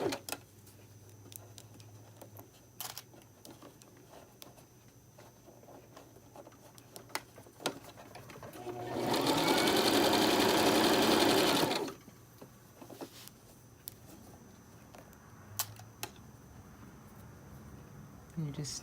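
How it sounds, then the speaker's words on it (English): A sewing machine runs in one steady burst of about three seconds while stitching the seam of a stretchy infinity scarf, set among quiet handling noises and pauses. "And you just stitch around as far as you can go."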